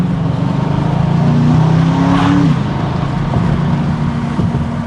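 An Aston Martin DBX driving on open roads, its engine a steady close drone with a brief rise in pitch partway through, heard from inside or near the car with no voices.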